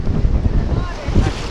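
Wind buffeting the microphone and choppy waves slapping around a small fishing boat on a river near bluff ledges, a steady loud rumble with irregular low thumps of water against the hull.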